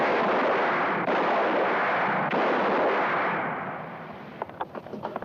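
Gunshots fired on command in a film, a dense roaring barrage of loud, overlapping shots that fades after a few seconds into scattered cracks and light clatter.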